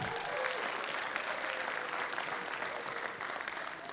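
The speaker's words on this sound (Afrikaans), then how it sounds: "Kan ons net die worship team net 'n hande klap gee?" Sustained applause from a church congregation for the worship team during a Sunday service, a steady dense wash of clapping that holds evenly for the whole stretch at moderate distance.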